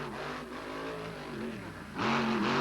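A race truck's engine revs hard on the throttle, a continuous droning roar with pitch wavering up and down and a sharp surge in loudness near the end, heard at a distance.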